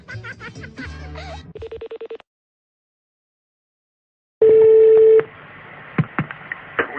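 Telephone call sequence: a burst of quick DTMF dialing tones, then a steady ringback tone, followed by a long loud ring tone and faint line noise with clicks.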